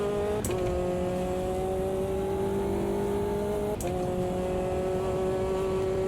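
Caterham race car engine in the racing sim Automobilista 2, a steady high-revving drone held at near-constant pitch with two brief shift blips, loud and alone.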